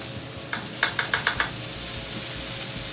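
Butter sizzling and starting to burn in a pan on the stove, a steady close hiss with a quick run of five or six light knocks or taps partway through, no talking.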